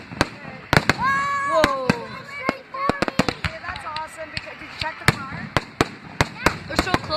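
Fireworks bursting close by, about 50 meters away, in a rapid series of sharp, loud bangs and crackles, with whistling rockets rising between blasts and a person exclaiming over them.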